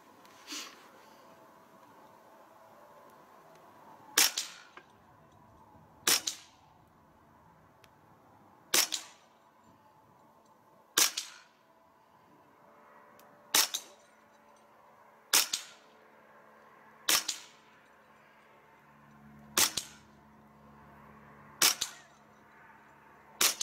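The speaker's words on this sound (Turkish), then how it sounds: "Bir yarı otomatiğin avantajını kullanalım. Seri halde bir atış yapmaya çalışalım." A Hatsan Bullmaster .25 caliber (6.35 mm) PCP semi-automatic air rifle fires ten sharp, loud cracks spaced roughly two seconds apart, each with a short decay, over quiet background.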